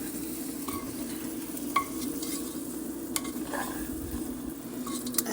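Cooking wine hitting a hot pan with garlic and soy sauce, a steady close sizzle and fry hiss broken by occasional faint clinks of utensils, with no one speaking.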